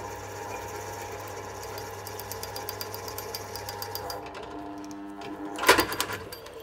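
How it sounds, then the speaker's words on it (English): A drill cuts holes in lead tiles for a boat hull with a rapid, rhythmic chattering that runs steadily, then fades, followed by a sharp burst of clatter near the end. "It cut faster in the first few times I cut holes."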